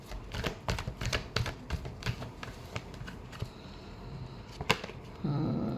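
Tarot cards are shuffled by hand in a stream of quick, dry clicks and riffles, fairly close and steady, with a short louder rustle near the end.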